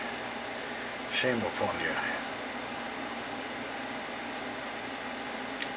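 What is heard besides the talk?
air conditioner running in the room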